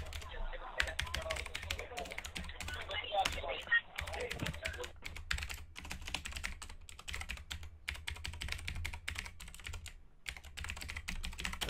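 Fingers type on a computer keyboard in steady, fast runs of clicking keystrokes with a few brief pauses, close and clear over a low background hum.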